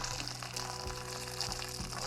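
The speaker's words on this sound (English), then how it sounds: "you just need to boil water and then you soak them in boiling water." Boiling water is poured over cashews in a bowl to soak them, a soft continuous splashing and bubbling wash at low level with faint clinks, and no talk.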